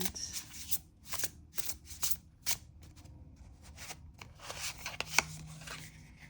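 Tarot cards being shuffled during a card reading, quick papery riffles and slaps coming in short bursts close by and fairly quiet, with brief pauses between handfuls.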